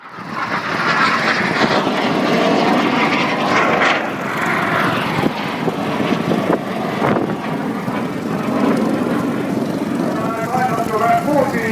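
A propeller aerobatic aircraft flies a rolling display manoeuvre at the Southport airshow, its loud droning engine continuous and near throughout, with a commentator talking over it.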